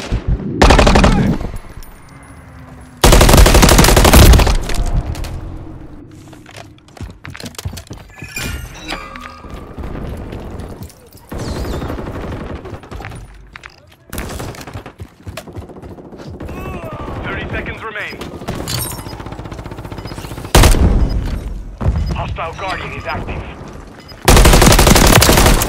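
Gunfire in the video game Modern Warfare 3: several loud bursts of automatic fire separated by quieter stretches of other game sounds, close and harsh, with some background voices.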